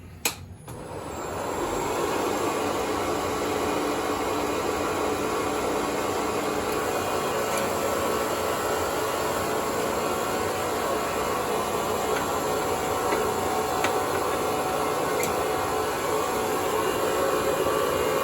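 A yarn spinning machine spinning a single strand, a steady loud mechanical whir and hiss running continuously after a brief start, with faint periodic ticks.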